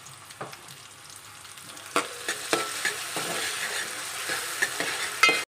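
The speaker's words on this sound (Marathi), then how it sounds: "आता यामध्ये आपण टोमॅटो घालून घेणार आहोत आणि कांदा आणि टोमॅटो छान मऊ होईपर्यंत परतून घ्यायचं आहे।" Chopped onion and tomato sauté in an oil-filled pan for a chickpea usal, a continuous soft sizzle punctuated by regular scraping stirs of a spoon, close and fairly loud, with a final clatter near the end.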